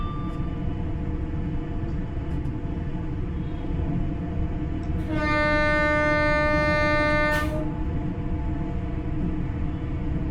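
An LNER Class 801/2 train runs on the East Coast Main Line in Train Sim World 4. A continuous low rumble fills the whole stretch, and a sustained horn blast sounds for about two seconds midway.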